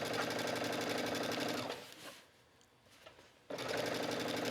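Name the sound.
sewing machine stitching waistband of A-line skirt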